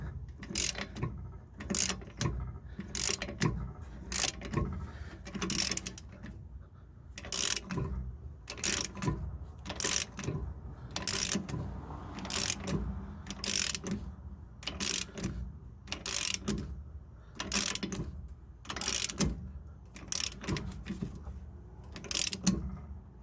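A hand ratchet slowly turns a lug nut to draw a longer wheel stud into the front hub of a Nissan R50 Pathfinder, clicking in a long series of close, evenly spaced bursts with no talk.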